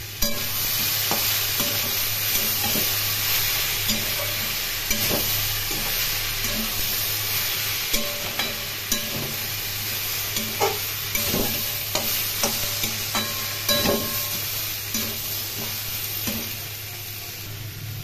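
Onion, garlic and ginger paste fries in a pan with a loud, continuous hissing sizzle, punctuated by repeated scraping clicks of a spatula stirring it, over a low steady hum.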